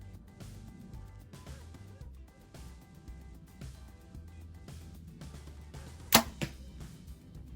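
Arrows from a Bowtech or PSE compound bow striking a target downrange, one sharp distant thwack followed by a softer second hit over quiet outdoor background.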